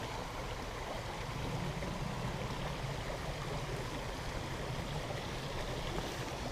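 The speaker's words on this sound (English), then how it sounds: "Got all these rocks, decent current, water's nice and aerated" A decent stream current rushes over rocks in an urban trout stream, a steady, close, broadband wash of aerated water with no pauses or voices.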